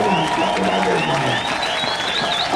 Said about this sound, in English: Clap them again, you know.